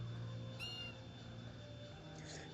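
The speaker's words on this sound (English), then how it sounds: "Questioning bird noises?" A single brief, rising, questioning bird chirp from a video game, faint and high, over a steady low ambient hum with no speech.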